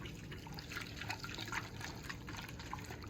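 Milk poured from a jug to rinse out sugar at the bottom, a soft liquid trickle with small splashy drips, quiet and close, no talking.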